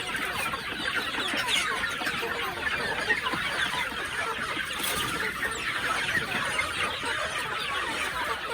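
A flock of chickens clucks steadily and densely, with occasional rooster crows rising out of the constant farmyard chatter.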